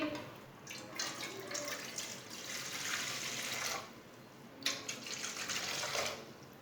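Water is poured from a glass into a cooking pot for rice kheer, a close, splashing trickle in two bursts with a short pause between, with no talk.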